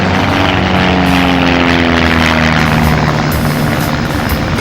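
A Dornier aircraft at a 1986 air show drones loudly and steadily overhead, a dense propeller-engine roar with a slowly falling pitch as it passes, continuous and close throughout.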